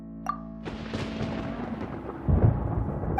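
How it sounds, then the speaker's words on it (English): Thunder in the video game Genshin Impact, a sharp crack followed by a deep rolling rumble that swells again near the end, heard on its own with no talk. "Paimon hears thunder!"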